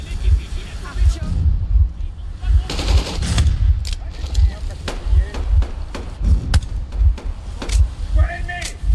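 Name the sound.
gunfire in the video game Metro Exodus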